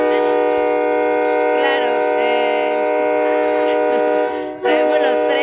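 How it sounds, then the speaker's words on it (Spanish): Train horn blaring long and loud with a sustained tonal chord, briefly dipping near the end before resuming, at a railroad setting during a bodybuilding bikini contest event; a voice speaks briefly over it. "Traemos los trenes aquí a un lado."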